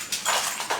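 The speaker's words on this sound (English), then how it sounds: "just ignore the dog noise" A dog gives two short, breathy whimpering yelps in under a second, close by and fairly loud, in an otherwise quiet indoor space.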